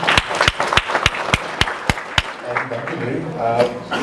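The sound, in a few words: audience applause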